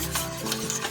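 A whisk stirs the sauce for a cheesy cauliflower gratin in a pan, giving a brief, soft, close scraping and swishing rub with no voices.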